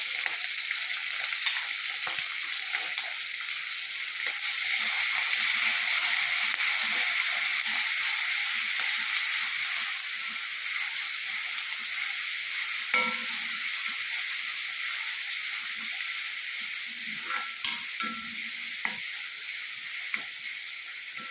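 Crushed garlic and green chillies fry in hot oil for Kerala-style gooseberry pickle, a continuous loud sizzle with occasional stirring scrapes and pops throughout.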